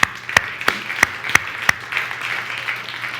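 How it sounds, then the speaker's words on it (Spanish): Congregation at a church worship service applauding, opening with several sharp rhythmic claps in time and then spreading into softer scattered clapping in a reverberant room. "Damos aplauso al Señor."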